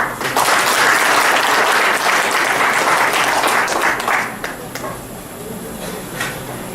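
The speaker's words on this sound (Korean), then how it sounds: "지금 나열드린 모든 분들께 감사의 박수를 부탁드립니다." Sustained applause from an audience at an alumni association's annual general meeting, loud and dense at first, then thinning and fading after about four seconds.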